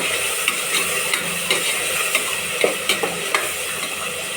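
Vegetables with chili powder being sautéed for a veg biryani give a steady hissing sizzle, with occasional soft ladle scrapes and taps against the pan, close and without talk.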